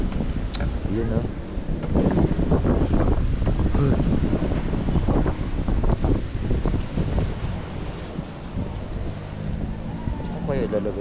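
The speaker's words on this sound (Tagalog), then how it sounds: "lakas ng hangin dito." Steady, strong wind buffets the microphone with a loud low roar throughout, gusting at times while people talk over it.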